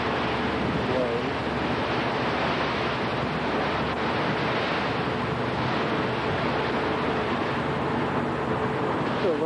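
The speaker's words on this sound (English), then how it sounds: "Waves." Waves on the River Thames by Tower Bridge in London churn in a continuous broadband wash. Heavy wind buffeting on the microphone blends with the water throughout, and no one speaks.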